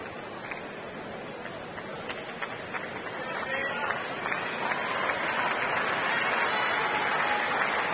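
Tennis spectators at the Australian Open applaud Jennifer Capriati during a semifinal, with scattered claps at first that swell into fuller, steady applause from the stands.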